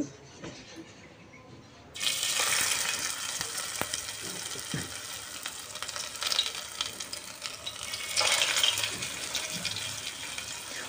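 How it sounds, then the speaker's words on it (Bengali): Drumstick flower pakoras fry in oil over low heat, a dense bubbling sizzle starting abruptly after a quiet moment and then continuing steadily, swelling a little louder near the end. "তারপরে হালকা আঁচে সবগুলোকে ভেজে নেব"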